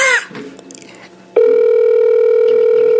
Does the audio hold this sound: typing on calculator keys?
no